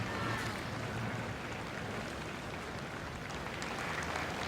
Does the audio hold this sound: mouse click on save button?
no